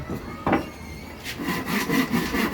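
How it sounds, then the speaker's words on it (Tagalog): Hand saw rasping through wood in uneven strokes, close by, with a sharp scrape near the start and then a run of quicker back-and-forth cuts while building a ring. "Sabi nga ni Kuya Amboy, maglagari ka muna uli, Carl."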